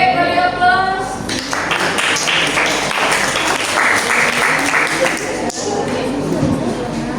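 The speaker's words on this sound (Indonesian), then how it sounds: "beri aplaus" Applause breaks out from a classroom of students, a dense wash of many hands clapping for several seconds before fading, with some chatter mixed in.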